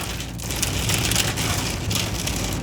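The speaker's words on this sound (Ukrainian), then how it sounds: "Ще й град якийсь, боже," Dense hail drums steadily on a car at night on a mountain road in Italy, a loud continuous rattling patter with no talking.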